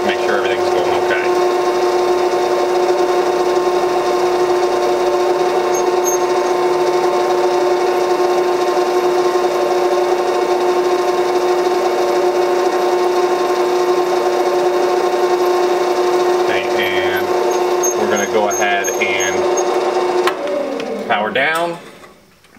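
A lathe runs with a steady mechanical drone while a reamer cuts the chamber of a rifle barrel, with intermittent scraping and chatter near the end as the machine slows and stops.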